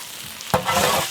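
A large leaf-wrapped herbal fish roasts in a pan, quiet at first, then a sudden loud hiss of sizzling bursts out and keeps crackling steadily.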